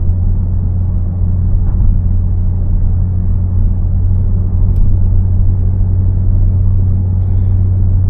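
A Mazda 3 Turbo with a Corksport downpipe exhaust cruises at about 45 mph, heard as a steady, deep engine drone and road rumble inside the car, loud and unchanging throughout, with no talking.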